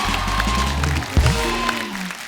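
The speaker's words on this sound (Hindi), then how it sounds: "तापसी के लिए जोरदार तालियां।" A studio audience on a television comedy show applauds under loud music, a broad dense wash of clapping with a brief low thump near the middle.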